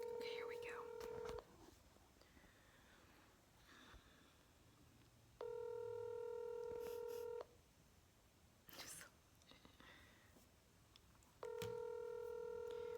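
A telephone call rings out as a steady, faint ringback tone that repeats three times, each burst about two seconds long, with quiet pauses and faint voices in between.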